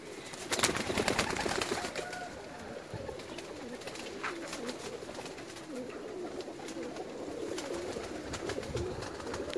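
Pigeons settle in a large loft in Pakistan, soft cooing and bird calls rising over a steady hum of ambient noise, with flutters and brief sharp sounds scattered throughout.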